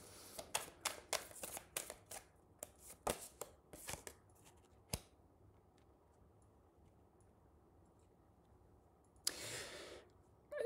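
Tarot cards being shuffled for a reading, a series of close, crisp riffling snaps and taps, then a quiet stretch and a final brief rustling burst.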